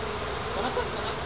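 A swarm of wild bees buzzes in a dense, continuous drone, close and steady through a brief moment, with a voice faintly present.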